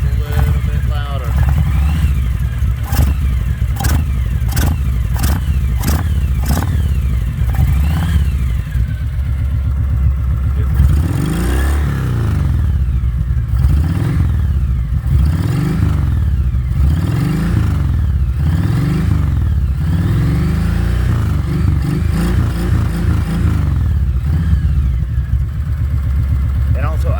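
Kawasaki Voyager motorcycle engine fitted with a big air intake kit, loud and close, first blipped in short sharp revs, then rising and falling in repeated throttle sweeps over a rumbling idle.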